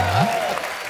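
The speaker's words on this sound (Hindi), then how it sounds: "कविता समाप्त हो गई है, आप लोग भी तालियां बजा सकते।" A studio audience at a Diwali stand-up comedy show applauds after a poem, a dense wash of clapping with a voice briefly over it.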